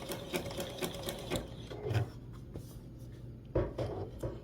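A sewing machine stitches around a small appliqué hat on a snowman quilt in short, quiet bursts of rapid ticking, with pauses where the needle stops and restarts.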